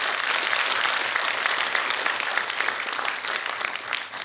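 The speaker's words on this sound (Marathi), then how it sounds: "एकदा जोरदार टाळ्या झाल्या पाहिजेत." Sustained audience applause at a welcome ceremony, a dense, steady wash of many hands clapping throughout, fairly loud and continuous with no talk.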